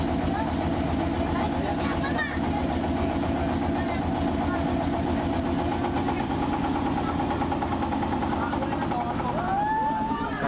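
Motorboat engine droning steadily on a river boat tour through mangrove waters in Surabaya, a loud continuous throb heard close, with a person talking over it.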